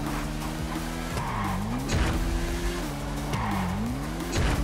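Hypercars race in GTA V roleplay, engines revving and droning loudly with rising and falling pitch as they shift gears, tires squealing amid the close, continuous roar.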